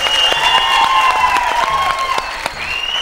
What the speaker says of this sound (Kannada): ಸೂಪರ್ ಜೋರದ ಚಪ್ಪಾಳೆ